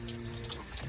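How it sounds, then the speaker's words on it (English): Tap water runs over tie-dyed fabric being rinsed in a sink, a close, continuous splashing flow without any talk. "We're going to keep rinsing it until the water runs clear and as much of the dye is out as we can get"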